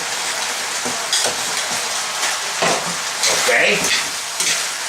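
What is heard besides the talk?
pork fried rice frying and being stirred in a pan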